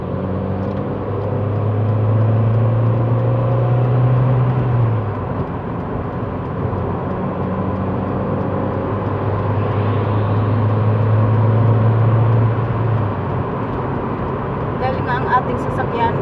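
Inside an 18-year-old car cruising on an expressway at night, a steady low engine and road drone fills the cabin, with a voice speaking faintly over it.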